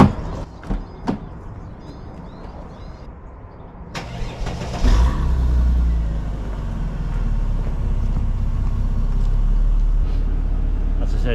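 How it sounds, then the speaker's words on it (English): A few clicks and thumps, then a Mercedes SL engine cranks and catches with a burst, settling into a steady, close idle rumble. "So make sure you start the engine."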